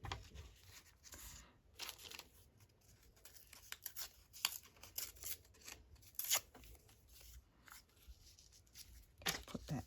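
Antique book paper being torn by hand at a crafting table for a simple envelope, a series of short dry rips and crinkles at close range, with quiet handling noises between them and no talking.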